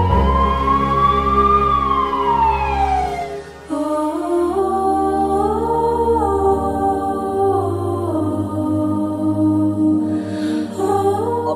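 A loud, close ambulance siren wails continuously, its pitch sweeping up and down in long cycles, then shifting to a new tone pattern partway through.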